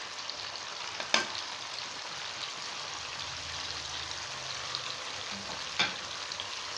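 Spices sauté in tomato paste, giving a steady, moderate sizzle throughout. Two sharp clacks of a spoon against the pan stand out from the frying.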